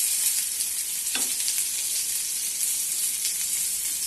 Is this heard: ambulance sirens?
no